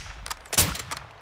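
A few sharp gunshots crack in quick succession, with one louder burst in the middle, gunfire from Call of Duty: Modern Warfare II (2022) with no talking.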